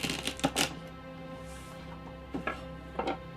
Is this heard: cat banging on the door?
no